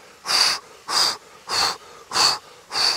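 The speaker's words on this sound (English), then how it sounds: "As soon as you do, a couple of forceful exhales" Five forceful breaths pushed out through the nose and mouth during a guided breathing exercise, evenly spaced about every half second to second, close and loud with airy hissing bursts and quiet gaps between.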